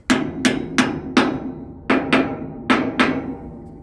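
Sharp metallic hammer taps on sockets during repair work on steam locomotive 34072 "257 Squadron", loud and close, struck in irregular pairs and threes with ringing decay and no talk.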